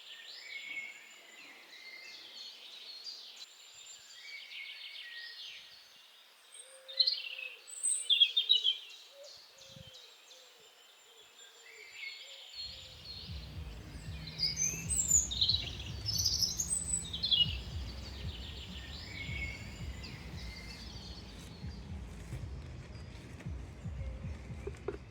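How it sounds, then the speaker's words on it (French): Birds sing in a park in Luxembourg City, with scattered chirps and trills near and far over a quiet background that later fills with a steady low rushing of water. "On vous laisse profiter de la nature, du bruit des oiseaux, du bruit de l'eau."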